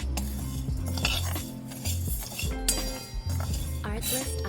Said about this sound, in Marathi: सर्वात आधी मी इथे कढई गरम केलेली आहे आणि आपल्याला हा साबुदाणा जो आहे एक 4 ते 5 मिनटं छान भाजून घ्यायचा आहे.